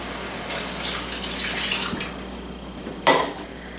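Two cups of water pour into a pot of oil, chopped onion and cubed beef stew meat, a steady splashing stream close by, ending in a brief sharper splash.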